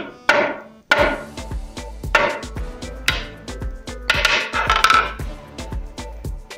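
Hammer crushing a tantalum oxide anode, a series of sharp, loud, close impacts in irregular rhythm, each strike a hard crunching knock.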